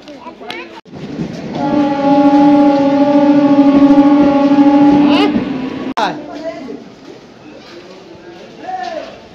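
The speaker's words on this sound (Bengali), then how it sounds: "আমাদের এই চক্রধরপুর এক্সপ্রেস এক্ষুনি ছেড়ে দিচ্ছে।" The Chakradharpur Express pulls out of a station with a long, loud horn blast lasting several seconds, followed by rumbling train movement and a second short horn.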